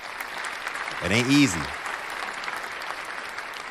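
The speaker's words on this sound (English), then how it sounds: "I got to give a round of applause." A crowd claps in steady, moderate applause that runs throughout, while someone speaks briefly over it in the middle.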